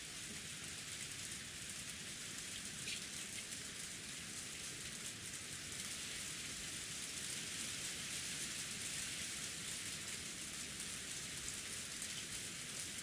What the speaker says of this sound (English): I don't like the rain though. The rain is getting on my nerves.